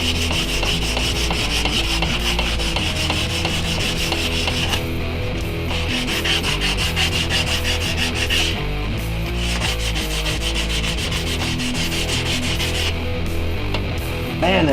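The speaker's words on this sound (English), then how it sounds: "and then I'll bring it and hand sand it" An AEB-L steel knife blade is sanded by hand in a steady, loud, rhythmic back-and-forth rasp with short pauses between runs of strokes, and no talking.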